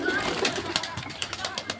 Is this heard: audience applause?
no